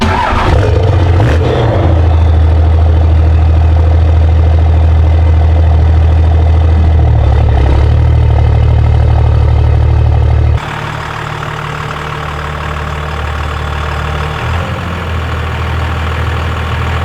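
A Cummins diesel pickup idling up close with a loud, steady low rumble that shifts in tone partway through as the truck is moved, no voices heard.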